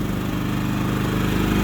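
A propane-powered portable generator runs in economy mode at a lower power draw, giving a steady, loud, continuous engine drone up close with an even throbbing rumble and no voices.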